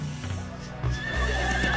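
Cartoon horses neigh sharply while hooves clip-clop in a steady trot, the whinnies rising over the close, continuous hoofbeats.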